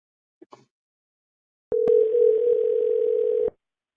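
A telephone dial tone before a call is dialed hums steadily for about two seconds, preceded by a couple of faint clicks and ending abruptly.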